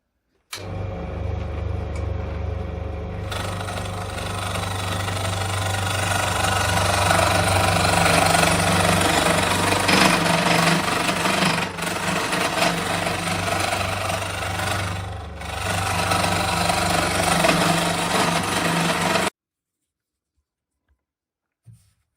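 A homemade lathe driven by a washing machine motor whirs with a loud, steady electric hum and scraping cutting noise, then abruptly shuts off into near silence.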